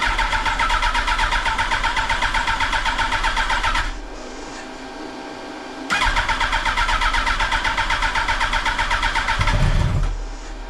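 A 2008 Yamaha R1 SBK race engine, run on a stand without a radiator, cranks with a rapid buzzing starter whir for about four seconds, pauses, then cranks again for another four seconds, ending in a brief low thump.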